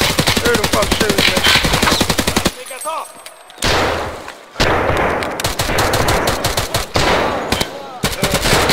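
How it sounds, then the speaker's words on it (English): Rapid automatic gunfire from a video game arena match crackles in dense bursts. A couple of brief pauses break it up, and loud excited voices shout over the shooting. "Who the fuck shooting me?"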